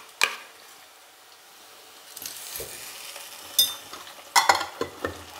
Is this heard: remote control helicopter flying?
no